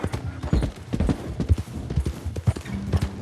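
Horse hooves clip-clop at a gallop in Red Dead Redemption 2, a steady rapid rhythm of close, fairly loud impacts with no talking.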